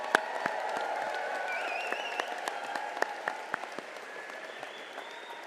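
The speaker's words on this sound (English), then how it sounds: "How about another round of applause?" A large audience at a University of North Dakota summer commencement ceremony claps in a full, sustained burst that gradually thins into scattered individual claps, with faint crowd murmur underneath.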